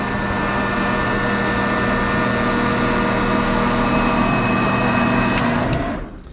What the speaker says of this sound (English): I have this small motor here, and I'm going to see how well it starts under a load.